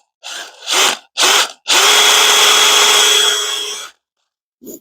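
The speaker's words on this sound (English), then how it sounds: "1/4 inch drill bit, line her up in there" A power drill with a 1/4 inch bit bores into wood: three short whirring bursts, then a sustained drilling run of about two seconds, and a final brief blip, loud and close.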